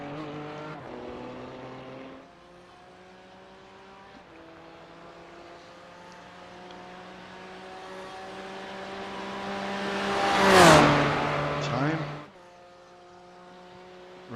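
A GT3 race car engine at Bathurst in a racing video game drones steadily, then swells to a loud, close pass with a sweeping pitch drop before settling back to a distant hum.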